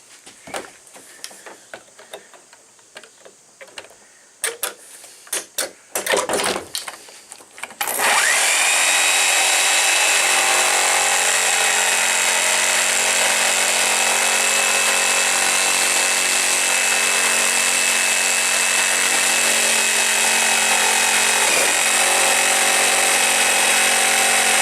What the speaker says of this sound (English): let's hope the jigsaw can get it done